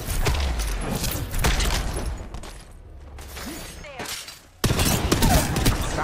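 Rapid gunfire in the battle royale game Apex Legends, bursts of shots and clattering impacts, some near and some distant, with a short lull before another loud volley while players talk over it.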